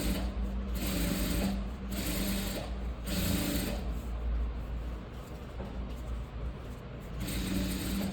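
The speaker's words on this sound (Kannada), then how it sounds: "ಈ ಥರ ಎಡ್ಜಿಗೆ ಒಂದು ಸ್ಟಿಚ್ ಹಾಕ್ಕೊಳ್ಳಿ" An electric sewing machine runs stitch after stitch along the edge of a blouse, a steady close mechanical whir rising and easing in several bursts, no talking.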